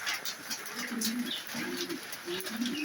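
A male Grizzle Budapest pigeon coos up close in repeated low, rolling phrases, with faint bird chirps and background noise around it.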